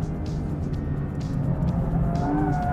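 Aston Martin V12 Vantage S engine pulling in third gear on a track with hairpins, a steady, loud, throaty drone that rises slightly in pitch near the end, heard without talk.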